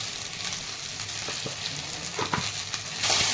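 Okra (bhindi) sautéing in hot oil for dahi bhindi, a steady close sizzle with occasional stirring scrapes and a brief louder hiss near the end.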